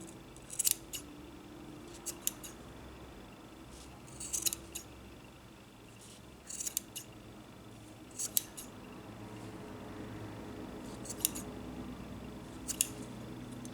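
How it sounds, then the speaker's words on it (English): Scissors snipping through the crochet yarn loops of a tassel, a series of short, crisp metallic snips spaced a second or two apart, close and isolated over a faint room hum. "I'm going to cut the loops"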